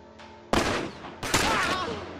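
Gunfire in The Last of Us, two loud, close bursts of rapid shots, the second starting about a second after the first and trailing into noisy reverberation.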